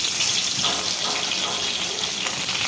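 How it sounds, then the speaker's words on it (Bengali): Pieces of rohu fish fry in a pan with a steady, close sizzling hiss that stays fairly even. "এই যে মাছ ভেজে নিচ্ছি"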